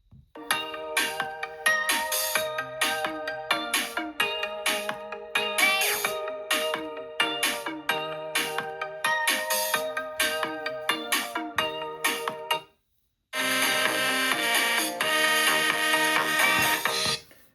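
An iPhone 13 Mini speaker plays its ringtone at maximum volume: a loud, bright melodic pattern of repeated chimes that cuts out briefly near the end and then resumes, with no talking.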